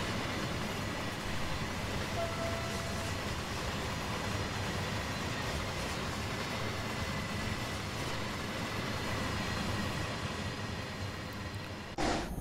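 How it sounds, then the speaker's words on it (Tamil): A train in a train simulator video game runs onto a bridge, giving a steady, loud rolling rumble that holds evenly throughout with no voices. "பார்த்திங்கன்னா நம்ம ட்ரெயின் பிரிட்ஜுக்குள்ளே போகுது."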